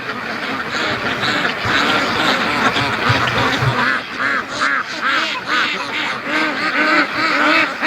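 Ducks at a feeder quack constantly in a loud, dense chorus of overlapping calls, nearby and continuous, with no voices.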